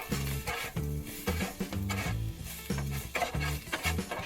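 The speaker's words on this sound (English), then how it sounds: "you want to make sure that you keep stirring it up, flipping it around" Spam fried rice stirred and flipped on a Blackstone griddle: a spatula scrapes and rasps across the hot metal in quick repeated strokes over a steady sizzle, close up and without talk.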